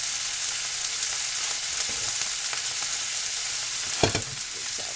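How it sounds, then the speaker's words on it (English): Onion sizzling in a hot pan for a beef and green bean stir fry, a steady loud frying hiss throughout with a few scraping stirs near the end. "Going to add our onion. Add our onion there."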